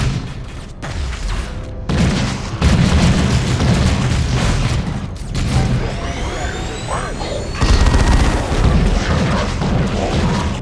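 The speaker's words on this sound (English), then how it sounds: "Put a grenade on that target." Grenade blasts and gunfire from the Warhammer 40K Dawn of War 2 video game, booming and loud, with bursts and sharp pops layered over a dense battle din and faint unit voice lines.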